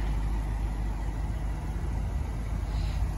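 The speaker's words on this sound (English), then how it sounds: "just listening to the low rumble of that V8 sounds so good." At the rear of a Lexus IS 500, the 5-liter V8 idles with a low, even exhaust rumble, steady and moderately close, with no talking.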